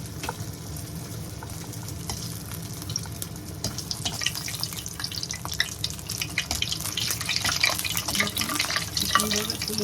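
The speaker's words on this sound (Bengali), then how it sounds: "এখন আমি ডুবো তেলে ভেজে নেব।" Bread pockets deep-fry in hot oil with a continuous bubbling sizzle, fairly quiet and close, growing busier with crackles toward the end.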